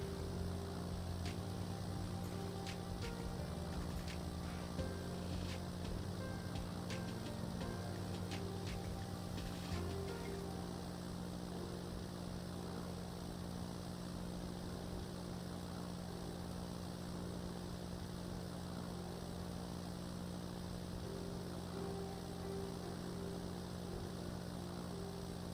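Propeller airplane cruising in the video game Roblox, a constant droning engine hum with a faint clicking rattle early on, steady and unbroken throughout.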